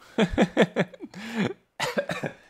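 A rapid series of harsh coughs close to the microphone, about four quick bursts, then a short pause and another cluster of coughs, with no other sound around them.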